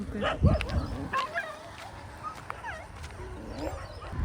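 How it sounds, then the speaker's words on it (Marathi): Several dogs bark and yelp from different distances, short sharp calls scattered over a noisy outdoor background with faint voices. "सगळी कुत्री ओरडायला लागतील"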